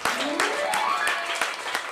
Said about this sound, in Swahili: Ongeza makofi kwa Yesu Kristo.